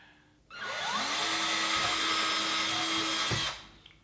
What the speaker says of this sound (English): drill that one guide hole down in there.